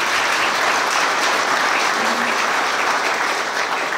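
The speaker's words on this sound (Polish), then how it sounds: "Bardzo proszę o brawa." Dense, steady applause from an audience at a charity gala ceremony, loud and continuous throughout with no pauses.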